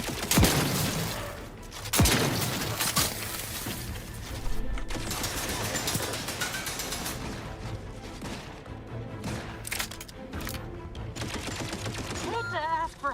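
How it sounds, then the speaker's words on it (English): Gunfire in the shooter video game The Outer Worlds 2: dense, rapid bursts and sharp cracks pile into a near-continuous barrage, loud and close, with other game effects and scattered voices mixed in. "You're still shooting me."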